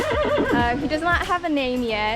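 A horse at a new home neighs and whinnies with wavering, quivering calls close by, while a person talks over it.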